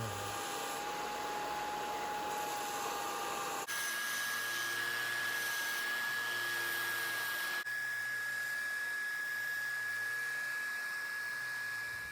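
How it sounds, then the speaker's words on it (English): A belt sander smooths cypress wood for a duck call, running as a steady, loud whining hiss from start to finish, its pitch shifting slightly as the wood is pressed against the belt. "I'm gonna go ahead and smooth this out on the belt sander"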